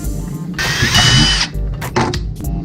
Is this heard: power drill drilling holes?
yes